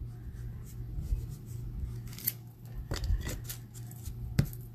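Scissors snip paper during a card-making craft session with ink and glue: a few faint, quick cutting clicks spaced apart over a quiet room hum.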